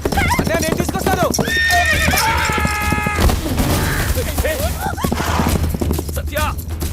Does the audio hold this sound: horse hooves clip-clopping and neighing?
yes